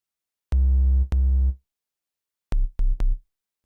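Sub-bass synth in FL Studio Mobile blending sine and triangle waves equally: two long sustained low notes followed by three short punchy hits, clean and loud with no voice.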